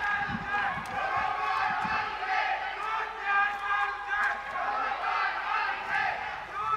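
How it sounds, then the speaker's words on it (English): Team supporters cheer and shout at the DD Robocon 2023 robotics competition in Thyagraj Stadium, New Delhi, a dense crowd roar holding steady through the whole stretch with scattered louder yells. "Team members cheering on their team on field."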